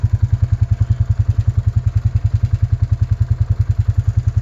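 An ATV engine runs steadily in about a foot of snow in Albuquerque, a close, loud, rapid low thumping pulse with no voices.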